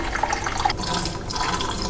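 Water trickles steadily through the drain holes of an old kitchen sink during cleaning, a soft, constant splashing flow with faint gurgles and no voices.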